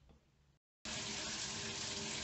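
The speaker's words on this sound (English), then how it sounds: "cut on the shower" A bathroom shower is switched on at night and runs in a loud, steady hiss of spraying water, after a brief quieter moment and a short silence.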